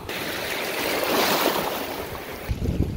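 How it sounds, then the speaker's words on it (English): Big waves at a country beach make a loud, continuous roar of churning surf and rushing water with wind buffeting the microphone. Heavier surges come toward the end. "All right, we've got big waves coming."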